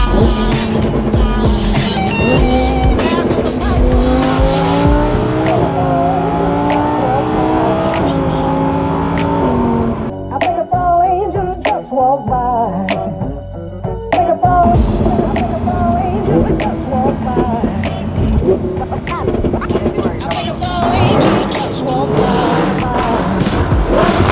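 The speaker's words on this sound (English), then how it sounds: "That supercharger sounds flipping awesome." Supercharged Lamborghini engine revving at a cars and coffee meet, loud rising and falling engine notes that briefly ease off mid-clip before roaring back, close and dominant.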